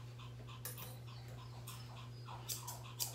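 A Pomeranian puppy with separation anxiety whimpers faintly on a grooming table, with scattered thin whines and soft breathy sounds over a constant low electrical hum.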